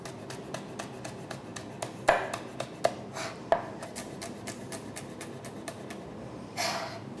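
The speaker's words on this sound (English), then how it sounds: "Slice really thinly peppers." A knife slices peppers thinly on a board in quick, regular taps, close and crisp, with a few louder cuts standing out and no talking.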